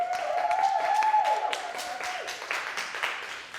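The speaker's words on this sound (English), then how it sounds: "Round of applause for them." An audience claps for a lineup of storytelling speakers at a sea tales event. The applause is moderate and scattered, with a steady tone running beneath it, and fades slightly toward the end.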